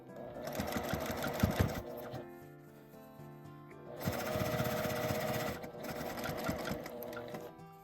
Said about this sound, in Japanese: 上端から1センチのところを横に縫います。